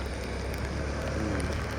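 Steady rain falls during a rainfall-monitoring outing, a dense continuous patter and hiss with no breaks and no voices over it.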